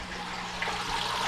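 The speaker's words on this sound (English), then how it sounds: "The water goes in the bottom, filters up the top, and then goes out" Water flows steadily through an unpowered pond filter in a red-eared slider turtle tank, entering at the bottom and spilling out the top in a continuous close rushing trickle.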